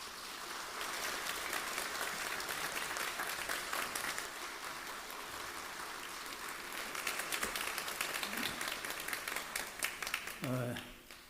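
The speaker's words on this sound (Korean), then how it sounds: "나오실 때 박수로 맞이하겠습니다." A church congregation claps continuously to welcome a senior pastor to the pulpit at a year-end Korean service, a broad, sustained round of applause filling the sanctuary, with a voice speaking briefly near the end.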